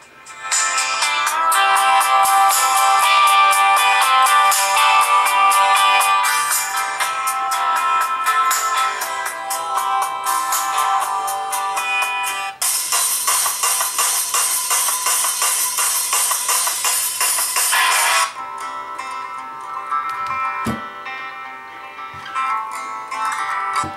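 Music plays through the speaker of an iHunt Freedom budget smartphone, loud and bright with thin bass, guitar and layered tones changing sections, running continuously for about twenty-four seconds with no talking.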